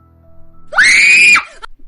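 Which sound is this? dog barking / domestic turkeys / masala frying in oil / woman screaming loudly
woman screaming loudly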